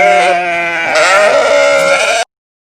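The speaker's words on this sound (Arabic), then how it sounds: "خروف" A sheep gives one long, loud, wavering bleat with a strong tremolo, close and alone for over two seconds before stopping abruptly.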